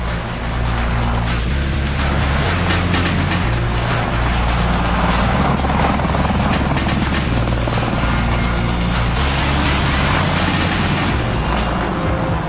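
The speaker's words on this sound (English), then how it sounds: "The Apache aircraft was designed to be a heavy attack platform for the Army" An AH-64 Apache attack helicopter flies steadily, with a loud, continuous rotor and turbine roar and a low rhythmic throb that stays constant throughout and has no voices over it.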